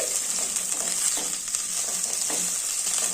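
Ingredients for lemon pickle roast in a hot pan on a stove, giving a steady, close sizzle with light scraping and stirring throughout.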